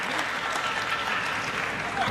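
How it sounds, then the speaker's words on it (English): Spectators at a table tennis match clap steadily in a continuous crowd applause, with a commentator's voice faintly under the clapping. "Linus up on the feet this time with the over-the-head clapping, trying to will Anders through."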